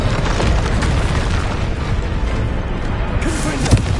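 A Bombarda blasting spell from Hogwarts Legacy on PS5 bursts loudly, with a sustained crashing roar and splintering debris that fill the whole stretch before a final sharp crack.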